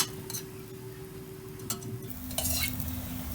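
A millet aloo paratha made with corn meal is flipped on a hot pan and brushed with ghee, giving a steady close sizzle with a few soft scraping taps and a brief louder flare near the end.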